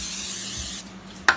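A steady hiss of an aerosol cooking spray sprayed into a corn dog maker, lasting under a second, followed by a quieter pause and a sharp click near the end.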